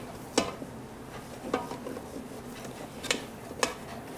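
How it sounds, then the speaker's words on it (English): Thick choux pastry paste being stirred in a pot, a few soft scraping knocks and taps of the spoon against the pan at irregular intervals, close and quiet. "As you're stirring, you will start to get a very thick paste."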